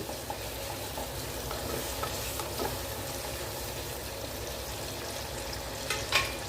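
Onions and garlic sizzle steadily in a hot pan, with occasional scraping as they are stirred; close and continuous.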